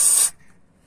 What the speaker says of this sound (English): So what you want is some silicon spray.